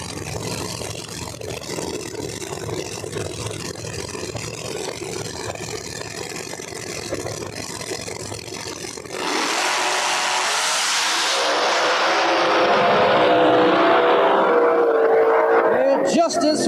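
Street Outlaws No Prep Kings drag race cars at Flying H, a loud engine roar with announcers talking over it, then a sharper, brighter surge of accelerating engines rising and sweeping in pitch during the second half.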